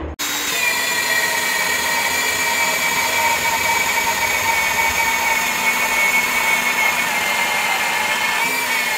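An annular cutter drills suspension holes through a Peterbilt truck frame during a frame stretch, giving a loud, steady metallic whine that runs unbroken for about nine seconds with no talking.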